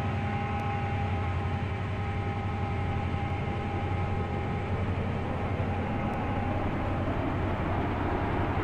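A Class 68 train in the Stepford County Railway game rolls along with a constant, even rumble and a steady low hum, unchanging throughout with no voices.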